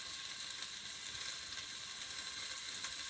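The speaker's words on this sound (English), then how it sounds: "While the onions are cooking down" Onions cooking down in a pan give a steady, close sizzle, a dense continuous frying hiss at even loudness with no talk over it.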